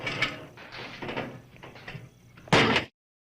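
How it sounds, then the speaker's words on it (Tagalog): An interior door at a home entrance is opened, ending in one loud, brief rattling burst after softer shuffling and handling noises, then silence. "pakibukas lang ako ng pinto ha"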